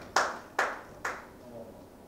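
Three sharp, separate claps ring out close and fairly loud, each decaying quickly, from an audience at a Tamil literary speech event, with no talking.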